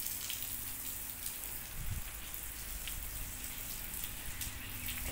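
A steady spray of water from a low-pressure hose hisses and patters onto flowers and ground, continuous and close, with a brief low thump partway through.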